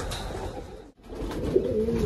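A pair of Kalduma pigeons kept at a house coos softly at close range over a steady background hiss, with one clearer drawn-out coo near the end.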